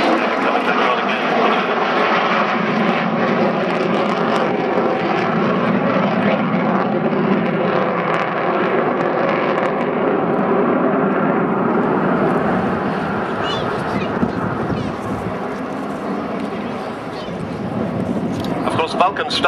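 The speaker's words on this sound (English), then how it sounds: "Is spooling down there as they take the power off and come back on again." Jet engines of an Avro Vulcan bomber roar loudly at an air tattoo as they spool down, then build back up. A commentator talks over the engine noise.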